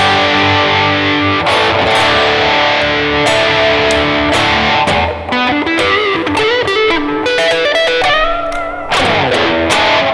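Fender Telecaster electric guitar played through a Boss Metal Zone MT-2 distortion pedal set to moderate gain, loud and continuous with chords and single-note lines throughout, no talking.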